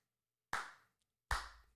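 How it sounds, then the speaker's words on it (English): Two slow, deliberate hand claps ring out close by, spaced well apart with silence between them and no talking. "I am slow clapping."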